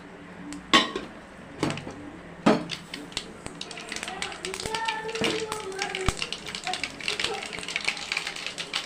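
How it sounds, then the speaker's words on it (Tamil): Mustard seeds spluttering in hot oil in a pan for a tomato kootu: a few loud clanks of a utensil against the pan, then a rapid, irregular crackle of sharp little pops building and continuing close by. "கடுகு கொஞ்சம் பொரியட்டும்"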